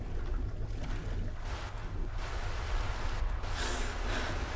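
Underwater swimming in Skyrim inside a flooded cave, a steady rushing, muffled wash of water that continues without pause, with no talk.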